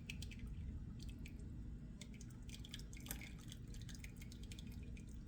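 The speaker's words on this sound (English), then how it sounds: "Yeah, we're straining it now." Hot cream of tomato soup strained through a sieve, giving faint scattered drips and small wet squishes over a low steady background hum.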